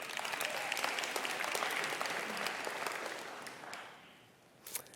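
Conference audience applauding, a dense sustained wash of clapping that fades toward the end, followed by a brief final burst of claps.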